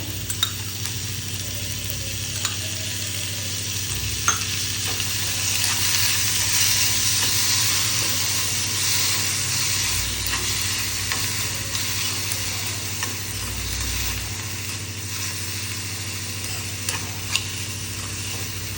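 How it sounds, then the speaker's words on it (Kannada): Onion, tomato and a couple of garlic cloves frying in a spoonful of oil in a pan for a brinjal ennegayi dish, a loud, continuous close-up sizzle that holds steady throughout. "ಒಂದು ಈರುಳ್ಳಿಯನ್ನು ತೊಗೊಂಡಿದ್ದೀನಿ ಒಂದು ಟೊಮೊಟೊ ಒಂದೆರಡು ಬೆಳ್ಳುಳ್ಳಿ ಇಷ್ಟನ್ನು ಹುರ್ಕೊಳ್ಳೋಣ ಒಂದು ಸ್ಪೂನ್ ಎಣ್ಣೆ ಹಾಕೋಣ"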